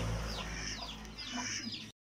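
A rooster gives a short run of soft, throaty clucks close by, quiet and alone, ending abruptly after about two seconds.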